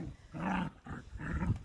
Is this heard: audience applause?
no